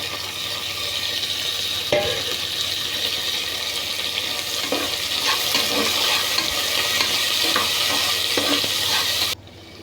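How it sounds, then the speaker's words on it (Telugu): Onion, tomato and curry leaves fry in a pan for a bean curry, giving a constant close sizzle broken by stirring clicks and scrapes, then cutting off abruptly at the end. "ఎర్రగడ్డ బాగా ఫ్రై అయ్యాక టమాటా కరివేపాకు వేసుకొని బాగా ఫ్రై చేసుకోవాలండి"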